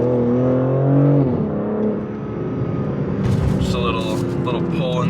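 BMW M3 car engine revving and accelerating on town streets, a steady loud drone that rises in pitch, with people talking over it throughout.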